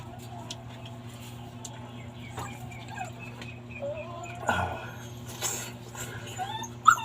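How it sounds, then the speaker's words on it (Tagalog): Hungry puppy whimpering and yipping in short, thin, high cries repeated over several seconds, fairly close, with a person talking quietly underneath. "Kabatom na yung tuta ko."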